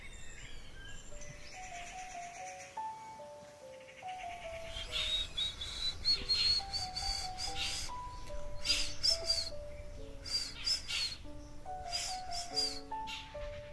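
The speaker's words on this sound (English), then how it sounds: "It's called the brain fever bird." A common hawk-cuckoo, the brain fever bird, calls in a jungle setting with a series of sharp, rising whistled notes repeated in quick bursts, moderately loud over faint background bird sounds.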